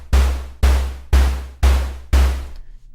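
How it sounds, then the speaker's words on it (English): Five evenly spaced synthesized drum hits, each with a bright noise-layer attack over a deep low thump and a quick decay, alone with no voices. "part of it is the noise, to get that little attack kind of sound."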